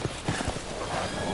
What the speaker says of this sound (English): They're on fucking horses?